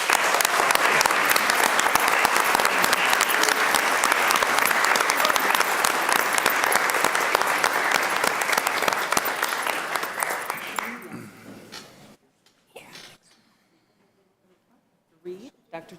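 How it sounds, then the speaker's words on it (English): A school board meeting audience gives a long, loud round of applause for an award recipient, the clapping dense and steady for about eleven seconds before tapering off to near silence with a few scattered sounds. "Let's give her a huge round of applause."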